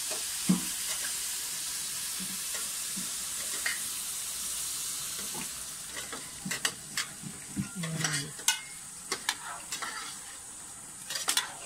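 Santol simmering in a cooking pan as coconut milk is poured in, a steady low sizzle with scattered stirring clinks and scrapes that grow busier toward the end, no talking.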